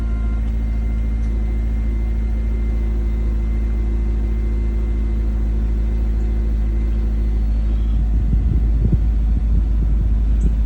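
A Honda S2000 idles with a deep, steady hum as its air conditioning blows, a constant low drone and airflow heard from inside the car, with a few faint rattles near the end.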